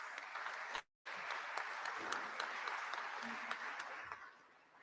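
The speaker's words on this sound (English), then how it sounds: "let us congratulate our new ministers with a round of applause" An audience at a cabinet ministers' swearing-in ceremony claps in a soft, distant wash of applause, briefly cut out near the start, then continuing evenly before fading at the end.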